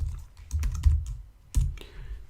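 Close computer keyboard typing comes as two brief clusters of quick key clicks and taps, separated by a short pause.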